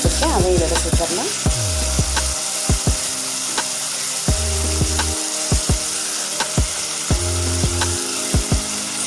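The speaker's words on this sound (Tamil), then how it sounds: "சேர்த்து விட்டு நல்லா அது குலைவாகிற வரைக்கும் நல்லா வதங்கணும்" Chopped tomatoes sauté in a hot pan of oil for prawn thokku, giving a steady close sizzle with repeated sharp clicks and knocks of stirring throughout.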